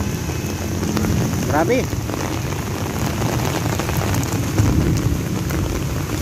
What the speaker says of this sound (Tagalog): lumakas yung ulan guys